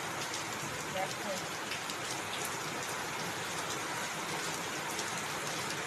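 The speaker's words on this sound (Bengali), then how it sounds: "বৃষ্টি কিন্তু থেমে যাচ্ছে।" Steady rain pours down in the evening, a dense, even hiss that fills the whole stretch without pause, with a voice faintly present beneath it.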